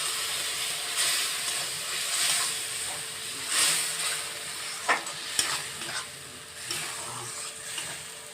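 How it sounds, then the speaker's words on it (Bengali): Mustard paste added to a pan of frying small fish curry, a soft steady sizzle with repeated stirring scrapes and a few sharper spatula knocks, fairly quiet and close, without speech. "এরপর আমি সর্ষে বাটাটা দিয়ে দিচ্ছি।"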